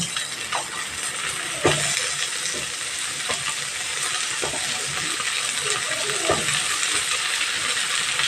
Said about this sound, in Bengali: দিয়ে সাথে আলু বেগুনের ঝিঙেটা আগে প্রথমে একটু ভেজে নেব